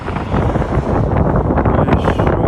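Strong wind buffeting the microphone outdoors by open water, a loud continuous rumbling roar with gusty surges, close and overwhelming, no talking.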